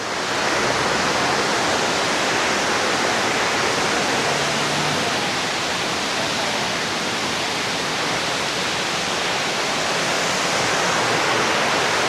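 A waterfall in Sri Lanka, swollen after heavy rain, roars steadily and loudly, a constant rushing wash of falling water with no breaks.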